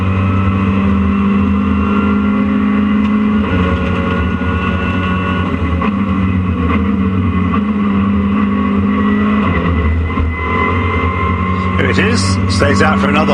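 Racing cars roar around the Donington circuit during a Caterham race, engines droning loud and continuous with shifting pitch as they pass, while a commentator talks over the noise.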